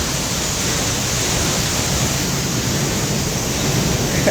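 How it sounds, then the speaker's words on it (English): An Icelandic waterfall roars as a steady, dense wash of falling water with no break or change in level, close and loud throughout, with no voices over it. "Here, the waterfall."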